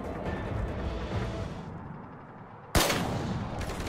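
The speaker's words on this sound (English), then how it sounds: "Wow, you shot right through that guy's shield." Gunfire in Mass Effect 3 co-op play: a dense, steady crackle of shots runs throughout, with one sharp, louder blast near the end, heard alone without talk.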